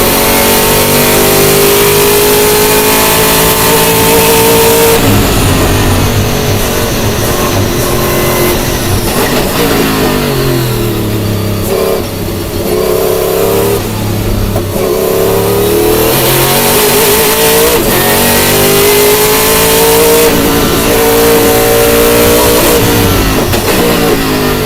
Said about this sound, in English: turbo Mercedes C11.